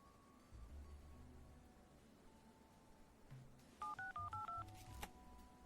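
Five quick telephone keypad tones dialing a code in the Leisure Suit Larry game, short evenly spaced beeps heard clearly over quiet background music.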